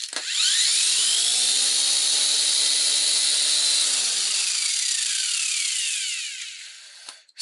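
A vertical spinning disc running at about 5000 rpm gives a loud, steady high whine that rises as it spins up, holds, then drops away as it winds down near the end.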